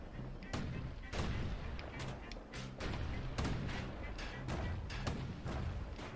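Turrets firing in the video game Bastion, a series of loud, punchy thuds and blasts in quick succession, with some overlapping impacts over game music.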